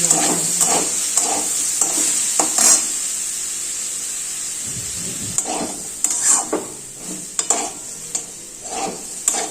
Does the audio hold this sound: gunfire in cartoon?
no